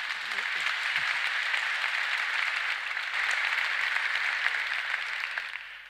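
An audience at a live conversation event applauds in a sustained, dense wash of clapping, with a voice briefly audible under it at the start.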